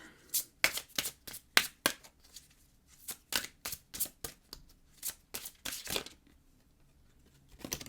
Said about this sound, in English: let's pull a goddess card